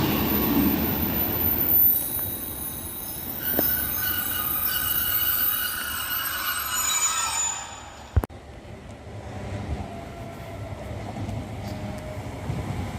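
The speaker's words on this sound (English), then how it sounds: "One 156429 and 156424 arriving into platform 1 at Preston." Class 156 diesel units roll into platform 1 at Preston with a steady rumble, high-pitched wheel squeals and flange whines over the first half, then a sharp clunk before settling into a lower, quieter rolling.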